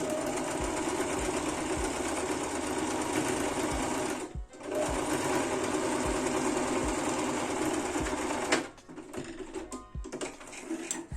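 A sewing machine stitches fabric for a book or tablet cover, running in a steady rapid whir for several seconds, pausing briefly, then continuing before stopping with a few softer clicks and handling noises.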